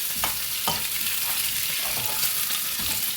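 Potatoes frying in a pan for potato egg curry, with no salt or turmeric added, sizzle steadily and close up, punctuated by a few scraping stirs.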